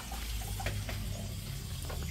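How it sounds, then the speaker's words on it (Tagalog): Water is poured steadily into a cooking pot for taro in coconut milk over a home wood fire, a continuous splashing rush close by with a constant low background hum. "Lalagyan po natin ng tubig."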